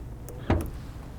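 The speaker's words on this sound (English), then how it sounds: "To pop the trunk, just press on the button that's here on the side of the door." A single short mechanical clunk and click as the trunk of a 2022 Audi e-tron GT pops open, released by a button on the side of the door, close by against a quiet background.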